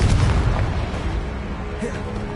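The Confringo blasting spell goes off in Hogwarts Legacy as a loud, sustained explosive boom with a deep rumbling low end. The blast fades slightly toward the end.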